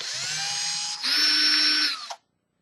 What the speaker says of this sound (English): It's my new power drill I got for my 21st birthday.